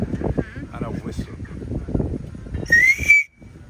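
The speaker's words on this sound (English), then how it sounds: "It's a killer whale's teeth made into a pendant and a whistle." A short, bright whistle rises and then holds briefly, blown on a pendant whistle carved from a killer whale tooth in a cafe in St. Vincent and the Grenadines, following a stretch of busy background voices and bustle.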